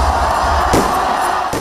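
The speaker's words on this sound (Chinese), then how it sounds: "庆祝烟火与欢呼声中" Crowd cheering and roaring at a celebration with fireworks, marking a Nigerian chef's record-breaking 100-hour cooking marathon; the noise is dense and steady, broken by two sharp bursts.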